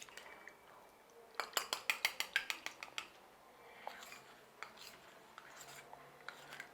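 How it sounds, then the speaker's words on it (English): A spoon briskly mixes a glucose syrup mixture for royal icing, first a quick run of sharp metallic clinks against the bowl, then slower, scattered taps and soft scrapes, close and fairly quiet. "So we need to give it a good mix to ensure that it's well dissolved."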